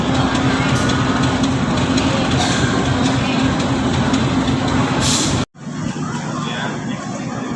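A train at Bandung railway station in Indonesia rumbles loud and steady nearby, a dense roaring wash that cuts off abruptly near the end and leaves quieter platform ambience.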